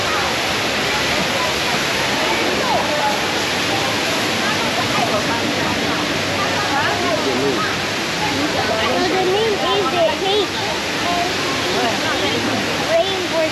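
The Rain Vortex, an indoor waterfall in Singapore, pours in a loud, steady, broadband rush that fills the space, while people talk over it.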